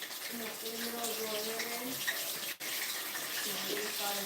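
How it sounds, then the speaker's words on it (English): Catfish fry in hot oil at a cookoff with a steady, dense bubbling hiss throughout and one sharp click near the middle. "That's bubbling way too much."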